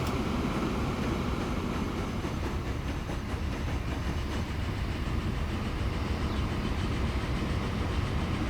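A train running in the video game Transport Fever, a continuous rumbling rail roll with faint rhythmic clatter, steady and moderately loud, no talk.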